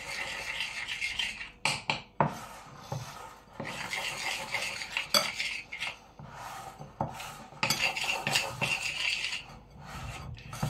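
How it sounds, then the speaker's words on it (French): A spoon scrapes and stirs chard tart filling around the sides and bottom of a bowl, giving irregular rasping strokes and small clinks at close range with no talking. "vu que j'ai la cuillère et qu'elle est sale, je m'aide un peu pour mélanger au début"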